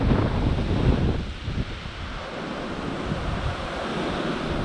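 Steady rushing wind with broad noisy gusts under a tree, loudest at the start, easing slightly, then holding as a constant outdoor roar.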